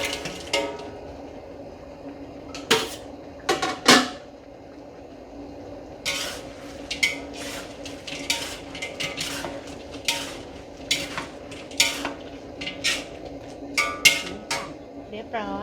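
Fried sea bass being tossed in tamarind sauce in a pan, with repeated clinks and scrapes of a utensil against the pan over a steady low simmer, sounding close and moderately loud throughout.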